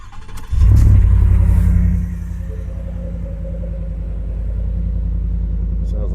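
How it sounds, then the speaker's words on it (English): A 2025 Ford F-150 STX pickup with a Flowmaster 10 muffler and a stock exhaust pipe and resonator: the engine cranks and fires with a loud, deep roar, then settles into a steady, rumbling idle with talk heard over it. "I did put a Flowmaster 10 on it so it would sound good"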